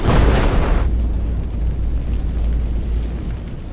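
An explosion in a Russian war movie: a loud, dense burst at the start that cuts off abruptly into a lingering low rumble and debris-like noise.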